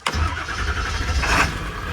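A 1975 Chrysler Imperial at an auction yard cranks briefly and fires up, then settles into a loud, steady idle with a slight rise in revs partway through, heard close with no talking.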